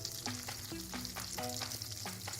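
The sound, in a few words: beef steak pieces browning in a pan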